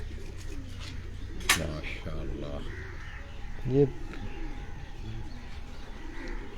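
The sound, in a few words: Kasuri pigeons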